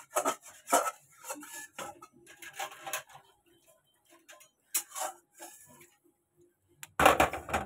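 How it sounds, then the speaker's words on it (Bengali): Close, irregular scrubbing and scraping strokes against a metal wok, coming in uneven bursts with short pauses, ending in a louder rasping flurry. "কড়াইটা ধুয়ে দিলাম, ধুয়ে আমি বসিয়ে দিলাম।"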